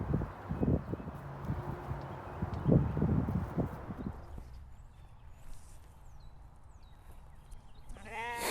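Sheep at a farm bee yard bleat several times in a cluster, loud and close, then the calls fade into quieter outdoor ambience with a faint higher bleat near the end.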